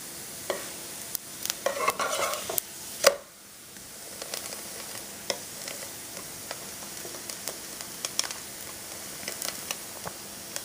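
Rice roti flatbread made from day-old rice cooks on a pan, giving a quiet, steady sizzle with scattered sharp ticks and a brief louder scrape or clatter early on, no talking.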